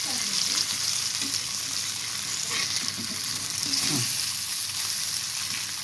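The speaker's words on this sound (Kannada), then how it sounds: "ಮೀನು ಫ್ರೈ ಆಗಿದೆ ನೋಡಿ" Bangda mackerel fish fries in a pan on low heat with a constant close crackling sizzle, occasional faint scrapes and clicks heard over it.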